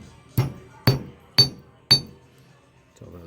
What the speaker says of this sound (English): Now I'm gonna just flatten out this end of it just a little bit